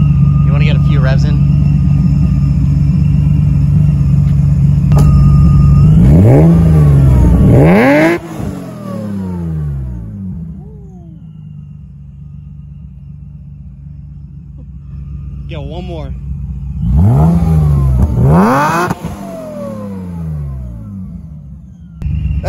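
A supercharged BMW E36 M3 on water-methanol injection revs up twice, each loud rising-and-falling rev standing out above a steady idle rumble, with people talking nearby.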